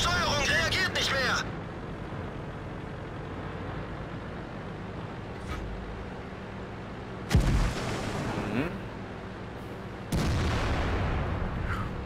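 Artillery fire hitting a tank in a video game: a heavy impact at the start, followed by a sharp loud boom and then another burst of gunfire later, with someone talking over the action.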